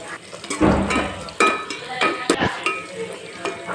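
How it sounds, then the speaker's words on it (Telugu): Onions, bay leaf and whole spices fry in oil for pulao, giving a close sizzle broken by several stirring scrapes and knocks against the pan. "ఆయిల్ వేసుకొని ఇందులో బిర్యానీ ఆకు, మసాలా దినుసులు, ఆనియన్స్ అన్నీ కట్ చేసుకున్న ఆనియన్స్ అన్నీ వేసేసుకోవాలి."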